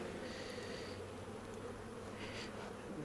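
A continuous close buzz of honey bees rises from an opened hive during a mite inspection, with frames being handled; the hum holds steady throughout, briefly brightening near the end, and nobody speaks.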